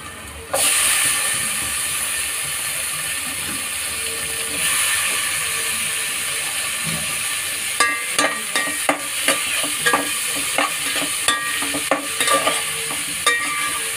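Tomatoes stir-fried with chilli masala for street-style egg fried rice, a loud close sizzle bursting in, then steady frying hiss broken by a run of sharp spatula clanks against the pan.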